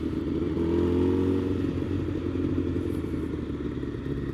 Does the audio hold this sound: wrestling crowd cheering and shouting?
no